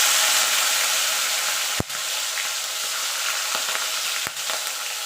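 Shrimp frying in hot oil for a spinach-and-shrimp dish: a loud, steady, close sizzle with two sharp knocks of a utensil against the pan.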